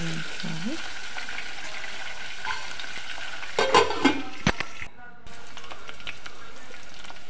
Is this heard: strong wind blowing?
no